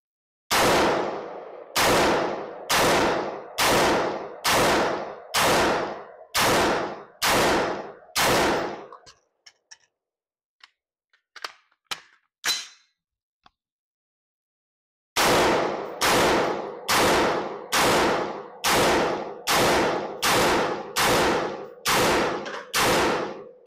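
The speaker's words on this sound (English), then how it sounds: "we just got done shooting the Delton 316M or M-Lock" A Delton 316M rifle fires two quick strings of loud, evenly spaced shots at close range, about nine in each, separated by a quiet pause filled with faint clicks and handling noises.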